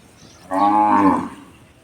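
A single loud cow moo, low and drawn out for under a second, rising out of quiet background at a village cowshed gate as cows arrive.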